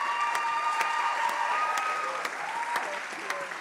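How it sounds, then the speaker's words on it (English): Steady applause with a few cheers from an audience at a Broadway-style singing showcase after a performer, moderately distant and even for a few seconds. "Another round of applause for Nina."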